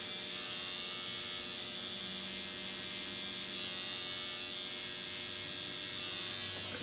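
An electric tattoo machine buzzing steadily while inking a tattoo, with color shading worked in small circles; a constant close, even whine with no pauses and no talking.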